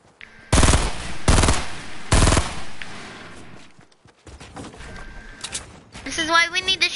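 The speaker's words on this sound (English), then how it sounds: "Oh, I hear some gunshots." Video game gunfire rings out in a few loud, sharp bursts early on, then gives way to quieter clatter and rustling. Near the end a voice can be heard over game sounds.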